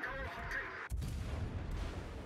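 A cruiser fires its guns in the naval video game World of Warships, a single deep boom followed by a rumbling tail over background game sounds.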